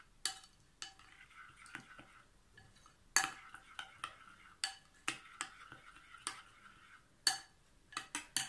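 Spoon stirring pizza sauce in a bowl, giving a run of sharp, close scraping clinks and taps at an uneven rhythm, fairly quiet with a soft room hush between strokes.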